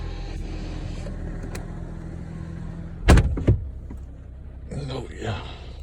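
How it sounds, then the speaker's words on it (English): A Ford Mustang's door slams shut with a sharp thud and a quick second knock, over a low engine rumble, followed by a brief rustle. "Let's see if the door closing."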